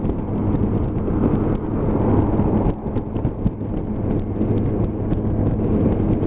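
Busy morning road traffic passing a rider on a Kawasaki GTR1400 motorcycle: continuous engine and wind rumble with vehicles swelling past, close and fairly loud, no voices.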